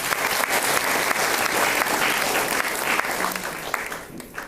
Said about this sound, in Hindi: एक बार शंभू सर के लिए तालियां।